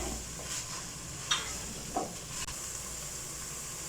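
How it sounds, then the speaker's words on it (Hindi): Minced meat frying in a pan with garlic and ginger just added, a steady close sizzle with a few sharp stirring scrapes and clinks over it. "लहसुन अदरक डालने के बाद अब मैं फिर से इसे थोड़ा सा भूनूंगी।"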